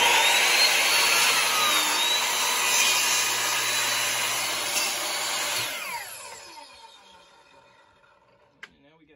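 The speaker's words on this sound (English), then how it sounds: "Just about the right size with this chop saw, or this miter saw." A miter saw whines loudly and steadily through reclaimed wood, then its motor spins down and fades over a few seconds, leaving a faint tap near the end.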